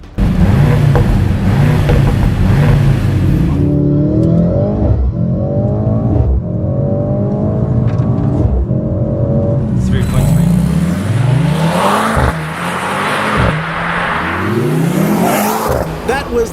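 A Mercedes-AMG car engine revs hard and accelerates through rising gear pulls, loud and close with repeated climbing sweeps, partly under a voice.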